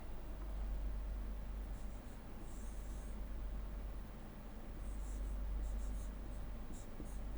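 Pen or marker writing a mathematical expression by hand gives a soft, steady scratching under a low constant hum, with a few faint squeaky strokes near the start and end.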